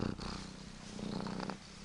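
A small cat purrs close by, a soft continuous rumbling drone with gentle breathy pulses throughout, steady and alone with no talking.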